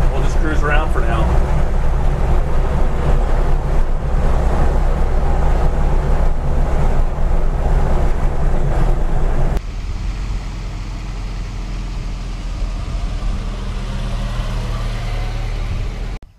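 A 1952 Willys Overland CJ3A jeep drives along with a loud, steady low engine rumble, then the sound shifts abruptly to a quieter, rougher droning hum partway through, with no talk over it.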